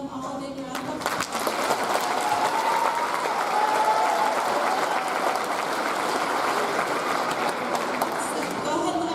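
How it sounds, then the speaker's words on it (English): An audience at an eighth-grade graduation ceremony applauds loudly. The dense, sustained clapping fills the room, rising quickly and holding steady throughout. "All right, let's give them all a big round of applause."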